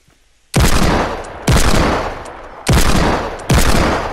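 Four heavy hand cannon shots from a video game boom out one by one at uneven intervals, each a sharp, loud blast with a short decaying tail and near silence before the first.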